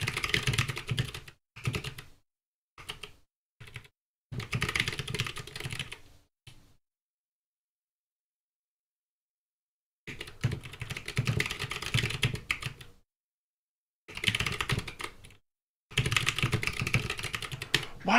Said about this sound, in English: Why is my keyboard like this?